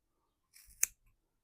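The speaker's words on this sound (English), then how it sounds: "now I'm going to snip the pieces" Scissors make a single crisp snip through about a metre of yarn folded in half for pom poms, one quick close cut with a faint follow-up click, alone in a quiet room.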